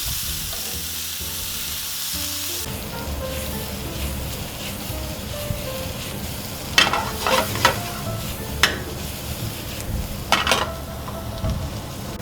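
Vegetables sautéing in a pan for a filled tortilla dinner, a constant close sizzle with scattered spatula scrapes and taps growing busier in the second half.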